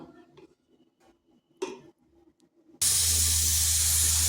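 Pressure cooker holding cabbage with turmeric and salt sits quietly with faint clicks, then a sudden loud, steady steam hiss bursts out and continues without a break to the end.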